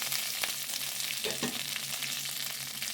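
Curry leaves and spices with salt fry in a pan, a continuous quiet sizzle with a few brief stirring scrapes.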